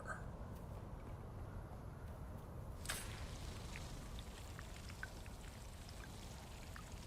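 Water pouring steadily while dew is harvested in the video game Dune: Awakening, a continuous soft trickling wash with a few brief drips and clicks, fairly quiet and unbroken by talk.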